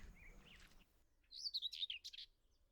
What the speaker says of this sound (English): the rather loud, random, raspy noise emanating from this gorse bush can only be my first whitethroat of the year